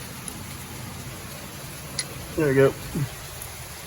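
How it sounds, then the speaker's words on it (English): Heavy rain falls outside a garage during a car intake install, a soft, steady patter and hiss throughout, with a brief spoken remark over it. "it's raining cats and dogs outside, so sorry for the noise."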